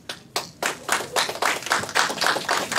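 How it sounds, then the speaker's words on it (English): Press-conference audience claps steadily for about three seconds, with sharp, closely spaced hand claps swelling into dense, moderately loud applause and no talking. "Give yourselves a round of applause"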